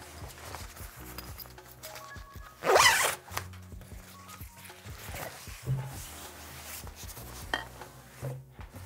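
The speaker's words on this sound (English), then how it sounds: "Here's my changing bag and my tank with the reel inside." A zipper is pulled quickly on a film changing bag holding a developing tank, giving one sharp, close rasp amid soft rustling and handling of fabric.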